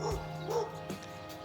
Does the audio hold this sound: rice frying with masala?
no